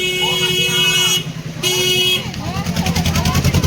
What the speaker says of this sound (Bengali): রাস্তার এপার ওপার গাড়ি যাচ্ছে তো